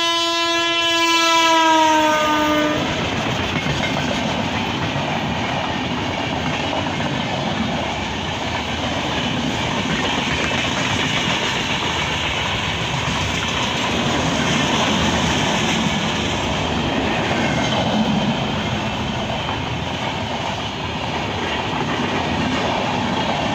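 An express train at Adhikari railway station sounds a loud horn, then passes close by with a long, steady roar of rolling wagons and rail clatter that gradually fades.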